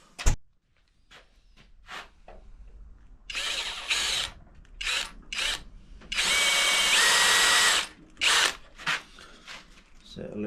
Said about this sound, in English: we'll do that with a drill.